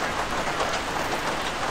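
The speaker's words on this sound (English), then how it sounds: "I can't hear you over the rain." Steady heavy rain in the Arma 3 video game, a constant close hiss of drops hitting surfaces that stays even throughout with no voices.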